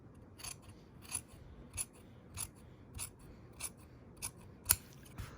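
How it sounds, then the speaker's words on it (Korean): Scissors cut fabric reinforcement interfacing for a bespoke English-style tailored jacket, a series of crisp snips spaced about half a second apart, quiet and close, with one sharper cut near the end. "보강심지, 보강천, 이 다트 폭보다 한 2배 정도 넓게 자르세요"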